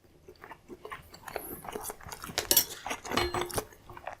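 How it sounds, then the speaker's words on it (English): Someone eats steak at a table: close, wet chewing and crunching bites mixed with clinks and scrapes of cutlery on a plate, irregular and fairly quiet, no talking. "Another bite of steak."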